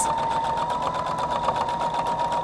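A Husqvarna Viking Designer Brilliance 80 sewing machine stitches through thick layers of denim with a steady, close motor hum and a fast, even needle rhythm.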